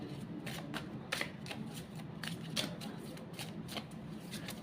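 Tarot cards riffled and shuffled by hand, a steady stream of crisp papery flicks and slaps with a few sharper snaps, close and fairly quiet, no voice.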